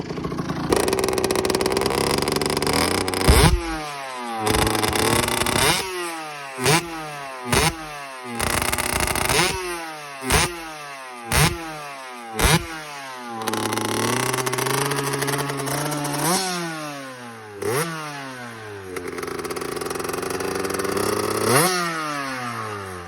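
A tuned Sherco motorcycle engine revs hard and loud nearby, with repeated sharp throttle blips rising and falling in pitch, then longer sustained revs climbing and dropping, with no talking.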